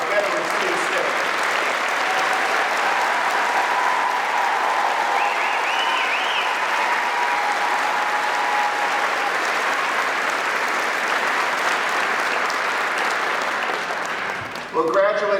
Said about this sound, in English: please join me in applauding this group of exceptional students with our veteran student staff